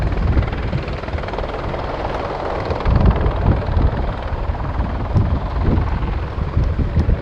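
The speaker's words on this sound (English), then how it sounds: "the British Army Apache attack helicopter" A British Army AgustaWestland Apache attack helicopter flying at an air show, its deep, throbbing rotor chop and engine whine loud and steady throughout, with some wind buffeting on the microphone.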